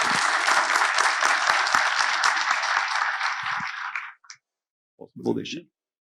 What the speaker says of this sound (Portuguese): Me ajudem a receber com uma salva de palmas, senador Irajá